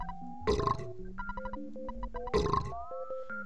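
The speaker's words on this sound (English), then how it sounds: "God, the burping's so repugnant." Two harsh noisy burp-like blasts from the SNES game Earthbound, each about half a second and roughly two seconds apart, layered over the game's synthesized tonal music.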